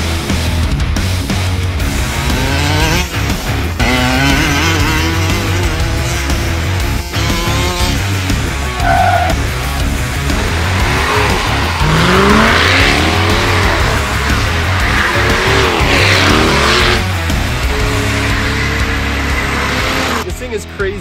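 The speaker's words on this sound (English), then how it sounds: "it even drifts donuts in the garage" A large RC monster truck spinning donuts in a garage, its electric motor whining and tires scrubbing loudly and continuously, with excited voices talking over it.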